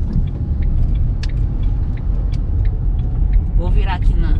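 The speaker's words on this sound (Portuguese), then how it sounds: "Vou reduzir a marcha." A manual car's engine drones low and steady while downshifting, heard from inside the cabin with continuous road rumble and a voice talking over it.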